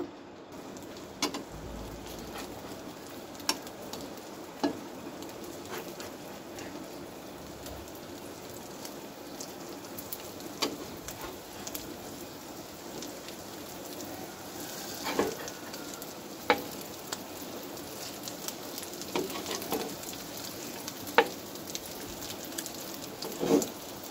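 Beef tawa kabab fries on a hot griddle with a steady close sizzle, broken by occasional sharp pops and soft scraping as the pieces are turned.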